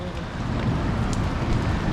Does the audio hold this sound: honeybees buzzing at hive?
no